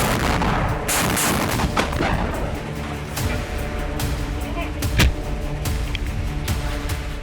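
Weapons fire from a Hamas Al-Qassam Brigades Al-Yassin anti-bunker missile launch, with sharp repeated gunshot-like cracks and booms over a dense, noisy battlefield background, and voices mixed in.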